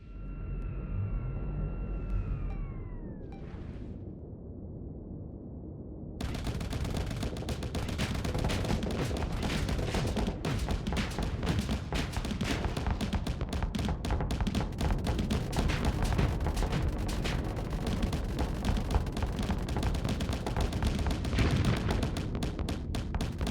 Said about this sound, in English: Auto cannons, light assault gun, ion cannon.